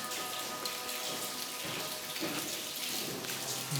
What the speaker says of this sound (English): You can hear the dripping